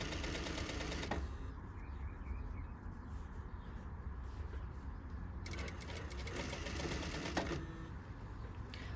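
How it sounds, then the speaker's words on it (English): A sewing machine runs steadily as it stitches fabric down along an inner curve, producing a continuous close mechanical whir with brief changes in pitch and no talk. "Moving them over, sewing them down."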